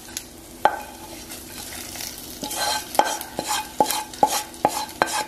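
Roasted coconut is stirred into a kootukari curry for an Onam sadhya, with the flame off. A spoon clinks and scrapes against the pot in a run of about eight sharp, evenly spaced strokes over a faint sizzle, with no voices.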